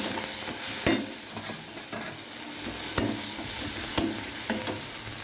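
Shrimp curry cooking with chili powder, turmeric and a little sauce, sizzling steadily in a pan while being stirred, with sharp scraping clanks of the spoon at intervals, close and alone.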